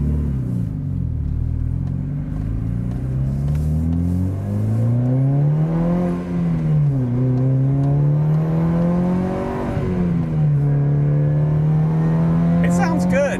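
Mitsubishi Evo 8 engine droning while driving, its low tone rising and falling with throttle through several gear changes, loud and close from inside the car, with people talking over it.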